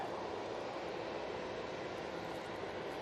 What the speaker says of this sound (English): Next BizJet coming over.